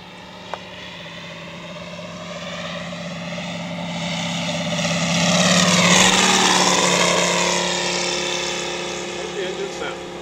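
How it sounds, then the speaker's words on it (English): A Corsair F4U propeller fighter's engine drones steadily in flight, swelling louder mid-clip and easing off again, with a sustained low hum and harmonic whine throughout. "What's the engine sound?"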